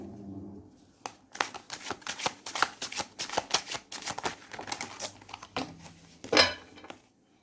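Tarot cards are shuffled close up, giving a string of crisp riffling flutters and slaps at an uneven rhythm, ending with a louder snap before going quiet.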